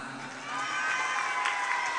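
Children cheering and clapping for a regent at a Quran school thanksgiving gathering in Selotumpeng, a steady crowd roar that swells halfway through, with shouts over a rising wash of noise.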